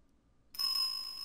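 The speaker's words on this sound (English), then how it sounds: "This dog. There's a bell on his collar. Was this the sound that we heard earlier?" A single bright ring of a bell on a dog's collar in the Ace Attorney Investigations 2 video game, starting abruptly from silence and sustaining a clear metallic tone.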